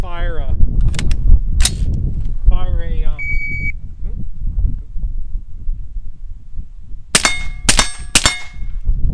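Rifle shots firing Wolf Gold ammunition crack sharply at an outdoor shooting range, with a few scattered loud reports and a quick cluster near the end, and people talk between them.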